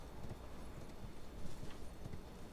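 Hooves of a horned horse clip-clop at a walking pace in Elden Ring, soft and faint, with steady regular steps over a low background hum.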